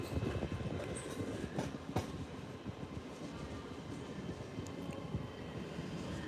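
Class 60 locomotive approaching through Doncaster railway station, a continuous low rumble of the train with faint rail clatter and occasional sharp squeals, steady and moderately distant with no talk.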